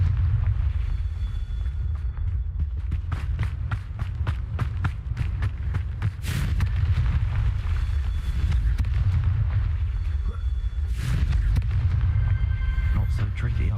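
Repeated Confringo spell blasts in Hogwarts Legacy, a rapid run of sharp explosive bursts over a constant low rumble, with two bigger impacts near the middle and later.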